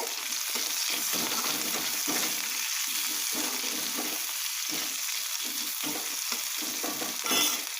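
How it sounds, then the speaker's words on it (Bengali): Onion frying in hot oil in a Bengali kadai (wok) for a breakfast wrap filling, a steady close sizzle with repeated soft scraping stirs throughout, no talking. "পেঁয়াজটা একটু ভাজা ভাজা হবে"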